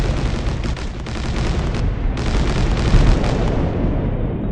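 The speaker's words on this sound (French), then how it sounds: "Et boum. Ah là, c'est du dégât." Earth is blown apart in the video game Solar Smash: a loud, sustained roaring explosion rumbles continuously, with a heavy low boom and crackling bursts that swell near the end.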